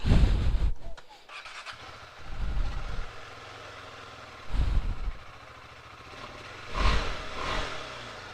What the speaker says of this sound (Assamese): এইফালে বাইকখন ষ্টাৰ্ট দিওঁ